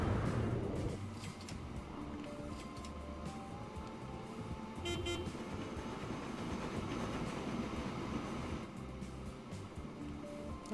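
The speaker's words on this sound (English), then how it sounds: "And that is one loaded train" A loaded freight train from the video game Transport Fever 2 rumbles along steadily at moderate volume, with a low continuous roll and faint clicking wheel sounds, no talk.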